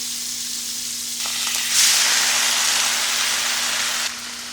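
Butter spread across a hot pan sizzles loudly and close, the hiss swelling to a stronger, bright crackle midway before dropping back near the end.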